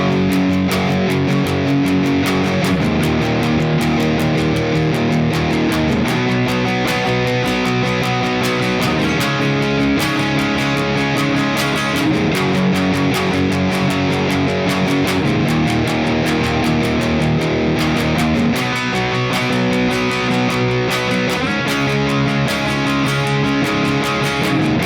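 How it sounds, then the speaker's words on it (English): Distorted electric rhythm guitar chugging through power chords, thick and loud, steady strummed rhythm with chord changes every few seconds, playing alone without any voice. "The rhythm guitar is just going to be playing power chords, and that part's going to sound like this."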